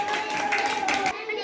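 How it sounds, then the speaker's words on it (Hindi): Children in a classroom clapping together, a burst of rapid overlapping hand claps with voices mixed in, close and fairly loud across the short moment. "तालियां बजाओ"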